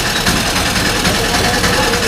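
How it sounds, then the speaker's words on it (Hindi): An auto rickshaw engine idles in the street, producing a loud, steady, rough rumble with a slight rhythmic pulse and no breaks. "और अभी आपको इस ऑटो रिक्शा की जो है कितनी आवाज़ आपको सुनाई दे रही है"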